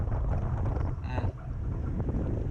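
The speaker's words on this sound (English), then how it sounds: "this was just windy, the windiest for sure" Strong wind buffets the microphone during a fixed-gear bike race, a loud low rumbling roar that continues throughout with a voice briefly audible underneath.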